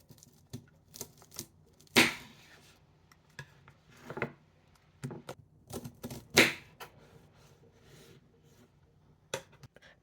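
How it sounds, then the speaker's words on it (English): Knife cutting Brussels sprouts vertically on a board, heard as a series of sharp, fairly close chopping clicks at an irregular pace with quiet gaps, two louder cuts standing out. "Cut off the bottom part. And then cut vertically."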